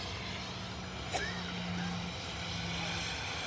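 An airliner taxiing fast at Manchester Airport, its engine a steady distant drone with a faint rising whine, heard from a visitor park amid outdoor background noise.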